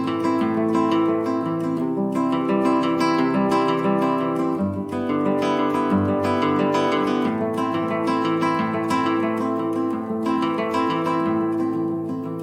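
An advanced version of a beginner acoustic guitar fingerpicking pattern, dense and steady picked notes flowing without pause and played close and fairly loud, with no voices.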